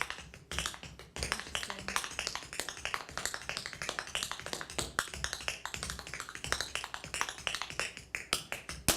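Fast, busy hoofing-style tap dancing: a dense stream of crisp shoe taps and heel drops in quick, syncopated rhythm, close and steady throughout with no voices.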